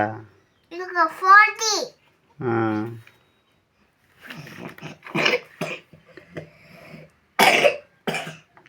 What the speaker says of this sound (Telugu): దగ్గు మళ్ళీ వస్తుంది.